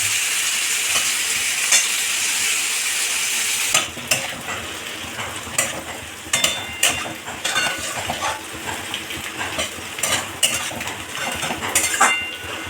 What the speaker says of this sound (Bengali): পেঁয়াজে আলুটা নাড়া হবে একসঙ্গে। এগুলোকে একটু ভেজে নেবো।